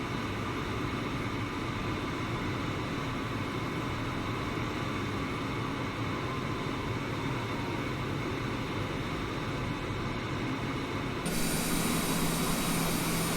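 The T-45 jet in Microsoft Flight Simulator 2020 roars in a constant, dense engine rush during low-level flight along the Florida coast, loud and unbroken, with a slight tonal shift near the end.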